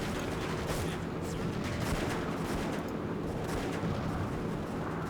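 A .50 cal machine gun fires in Blitzkrieg 2, a dense, continuous rattle of gunfire mixed with battle noise that stays fairly quiet and distant throughout.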